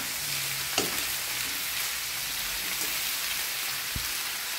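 Sprouted mung beans sizzle steadily in a hot pan while being stirred, with a constant crackling hiss and occasional soft scrapes and taps of the utensil.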